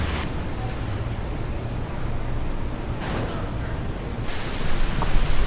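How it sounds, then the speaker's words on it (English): Heavy, pouring rain in St. Matthews, South Carolina, a steady dense wash of noise throughout, swelling slightly louder toward the end. "it's still pouring rain"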